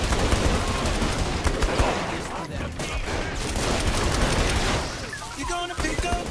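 Minigun fire pouring down from above in Saints Row 3, a dense continuous rattle of rapid shots with booms throughout, loud and close and mixed with game noise.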